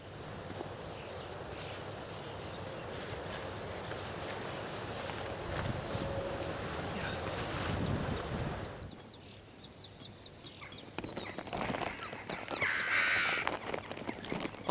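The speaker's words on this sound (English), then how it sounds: "I could hear a hooded crow not far away in the treetops" Hooded crows caw from some distance in the treetops as wind rushes and rumbles across the microphone, with a few harsh calls standing out near the end.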